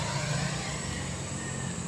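A car engine droning along Marilaque Highway, a steady roadside passing with a low rumble and hiss that holds evenly throughout, no voices over it.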